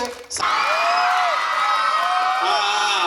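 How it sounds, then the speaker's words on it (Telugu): Schoolchildren cheer, shriek and whoop at a high school farewell day celebration, a loud continuous crowd of high-pitched voices with rising and falling shouts. "పిల్లల అరుపులు చూస్తే అర్థమవుతుంది సార్"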